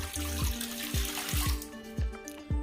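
A stream of water runs into a pot of milk on the stove, a continuous close pouring rush with a few pulsing surges, and no voices.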